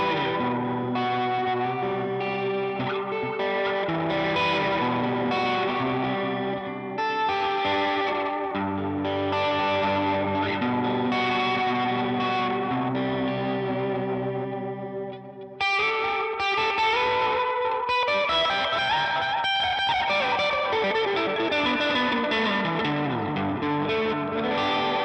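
Electric guitar played through a beginner's pedalboard with overdrive drive engaged, giving a distorted, chorus-tinged sustained tone that strums continuously, briefly drops near the middle, then rings on with a gliding pitch sweep.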